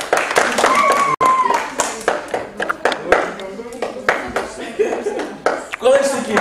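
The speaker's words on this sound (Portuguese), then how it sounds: "Palmas para os oito." A Portuguese-speaking group claps for a team of eight, with scattered uneven hand claps mixed among lively speech and calls throughout.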